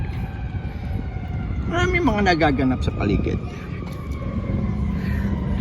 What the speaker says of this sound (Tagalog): May wangwang sa paligid.